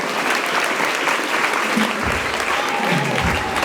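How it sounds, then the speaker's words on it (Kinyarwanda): A church congregation claps loudly in sustained, even applause for visiting singers, a continuous wash of hands with faint voices calling out underneath. "mwokomera amashyi Imana kubwo abaririmbyi baje guturirimbira"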